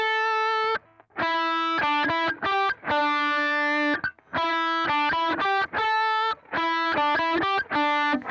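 Clean electric guitar picking out a simple nursery-rhyme-style melody note by note, close and clear, with short gaps between phrases and no voices.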